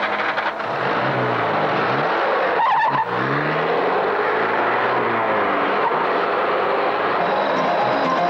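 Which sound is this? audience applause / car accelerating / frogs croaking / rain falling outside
car accelerating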